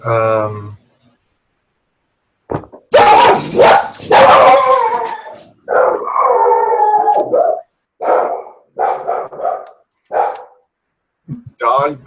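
A dog barks and howls loudly and close by in a series of drawn-out, wavering howls broken by short yips and barks, with brief pauses between bursts.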